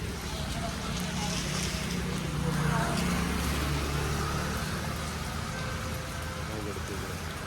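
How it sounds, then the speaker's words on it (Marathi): Heavy rain falls in a steady, loud wash of noise outdoors during a vehicle breakdown, with a low rumble beneath and a person talking over it. "पाऊस तर आज लई जोरात पडलाय"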